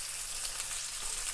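Beef oxtails searing in a hot pan for a Nigerian beef stew give a steady, fairly quiet sizzle with a soft, even crackle and no voices.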